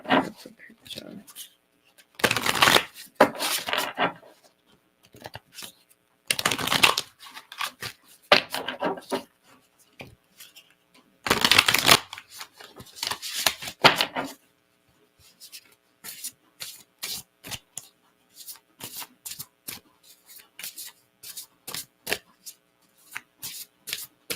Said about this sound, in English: I'll pull a card for you and see what the card says